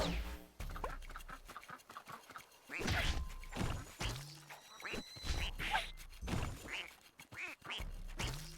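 Cartoonish duck quacks from the Rayman Legends video game, a busy run of loud, close quacks and game sound effects repeating through the scene with no speech.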